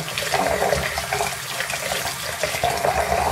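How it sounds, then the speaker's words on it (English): Hot tap water runs hard into a sink for cleaning a Kangertech EVOD vape atomizer, a loud, steady splashing rush with no talk over it. "Next, get your water going real good."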